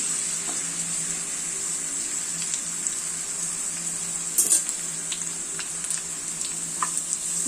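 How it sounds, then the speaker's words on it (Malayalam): Papadam frying in a little coconut oil, a steady close hiss of sizzling with small crackles and a brief louder pop midway. "ഇനി നമുക്ക് ഈ പപ്പടം എടുത്ത് ഇതിനകത്തോട്ടങ്ങിടാം"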